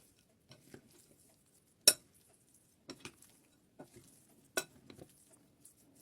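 Carrot-top salad sprinkled with parmesan being tossed in a bowl, with sparse utensil clinks and scrapes and a few sharper knocks against the bowl, close and otherwise quiet.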